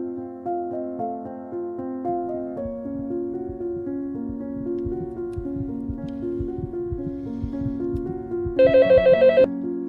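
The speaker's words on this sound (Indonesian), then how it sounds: "Tapi tiba-tiba suara telepon berbunyi." Melodic background music plays throughout, then near the end a bright electronic telephone ring pulses rapidly for about a second.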